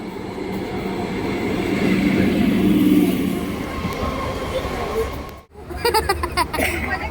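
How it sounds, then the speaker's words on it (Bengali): A train pulling into Barasat station, its loud rolling rumble and clatter swelling and then easing, followed by rhythmic wheel clicks; voices are heard in the background. "আর কিছুক্ষণের মধ্যে ট্রেন ঢুকবে।"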